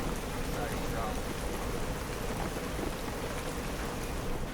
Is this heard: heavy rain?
yes